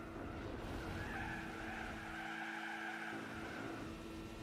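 A car with no brakes slides in Gran Turismo 4, a sustained skidding tire squeal over a droning engine, loud and continuous for several seconds.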